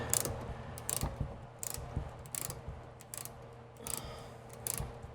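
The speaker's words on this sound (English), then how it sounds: "we're going to try to use the little ratchet here to get it tightened a little bit harder" A small ratchet tightening a bolt on a KSpeaker K100 Plus speaker mount on a side-by-side: repeated quick bursts of clicking pawl strokes, about seven in rhythmic succession, close and moderately quiet.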